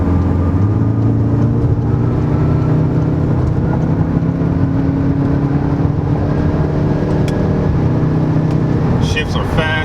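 A 2019 VW Golf R turbo engine drones steadily under acceleration, its exhaust valves open for a loud, continuous, rising tone, with a faint whir and a brief rattle near the end.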